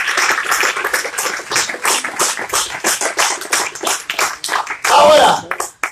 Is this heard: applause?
yes